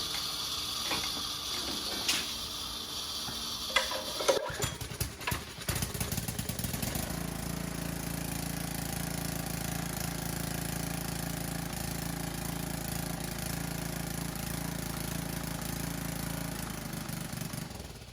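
A small engine on a used pressure washer cranks with a few ratcheting pulls, then catches and settles into a steady, loud running drone that continues to the end.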